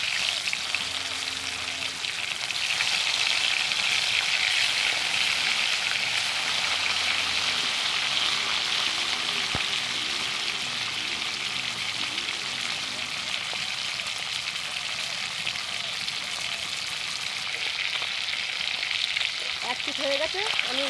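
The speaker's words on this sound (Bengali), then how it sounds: "এবার আমি মাছগুলো ভেজে নেব।" Hilsa fish sizzle steadily in hot oil in a pan, a dense continuous hiss that holds for the whole stretch, with faint clinks and stirring sounds near the end.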